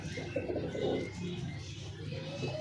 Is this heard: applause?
no